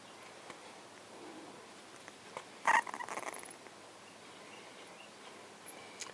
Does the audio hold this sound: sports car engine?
no